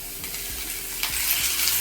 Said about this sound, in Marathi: आता गॅस मोठा केला तरी चालेल कांदा भाजताना आपण गॅस मोठा करतो